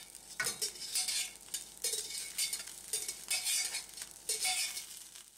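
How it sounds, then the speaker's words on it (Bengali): A spoon stirs boiled mutton liver into a thick Bengali do pyaza curry gravy in a pot, scraping in repeated rhythmic strokes with faint sizzling close by. "মেটেগুলিকে খুব ভালো করে গ্রেভির সাথে মিশিয়ে নিচ্ছি।"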